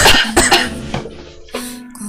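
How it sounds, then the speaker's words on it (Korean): A woman coughs in a few sharp close bursts, two quick ones then a later single cough, with breathy strained sounds between them. "기침 참는 중."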